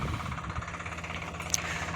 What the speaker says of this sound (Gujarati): જો ટ્રેક્ટર પણ હવે ચાલી રહેવા આવ્યું છે